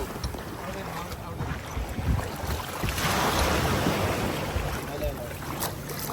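Glass-bottom boat at sea off Kalpeni island in Lakshadweep, with a steady wash of water and wind buffeting the microphone throughout, swelling slightly midway.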